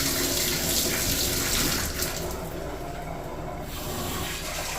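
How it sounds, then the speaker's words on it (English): A bathroom tap runs in a house, a steady close hiss of flowing water that holds at an even level throughout, with no talking. "Water works in the bathroom."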